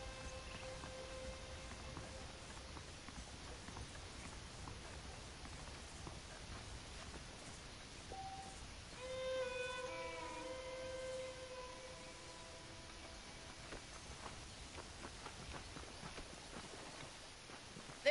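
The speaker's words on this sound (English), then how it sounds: "The horses are saddled up over here." Horse hooves clip-clopping at a steady walking rhythm in the Western video game Red Dead Redemption, fairly quiet, with tonal game music and background ambience rising midway.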